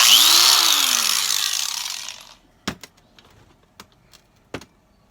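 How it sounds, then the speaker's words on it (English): A Mitsushi angle grinder runs loud and high-pitched for about two seconds, then its whine falls away as it spins down, leaving a few sharp clicks and knocks. "There's our angle grinder."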